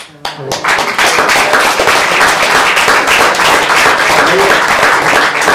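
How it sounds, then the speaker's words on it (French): Dense, loud audience applause at a French political speech on European elections, beginning abruptly and holding as a steady, crackling wall of clapping. "Merci de vos applaudissements"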